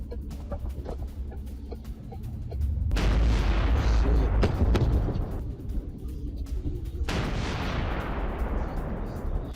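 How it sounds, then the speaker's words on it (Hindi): A gas station explosion in Zhytomyr near Kyiv erupts as a huge rolling boom that swells and lingers for a couple of seconds, followed by a sharp crack and fading rumble, with chickens clucking in the background. "कीव के पास जाइटोमीर में ये भीषण धमाका देखिए कैमरे में कैद हुआ है।"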